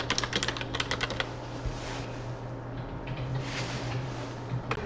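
A computer keyboard is typed on quietly nearby as a blog post title is entered: quick bursts of key clicks, then sparser taps, over a low steady hum.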